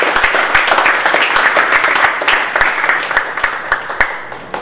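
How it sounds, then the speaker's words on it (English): Audience applause at a university memorabilia turnover ceremony at DLSU Manila, a steady dense round of clapping from a seated crowd that carries on throughout and thins slightly toward the end. "a big round of applause, please, for Dr. Ingrid Salle, Santamaria"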